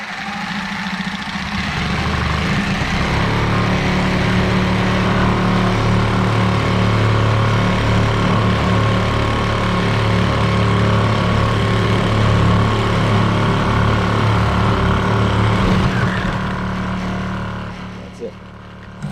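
A Sawzall reciprocating saw fitted with a resharpened old blade cuts steadily, its loud, close motor buzz running for about sixteen seconds before winding down and stopping.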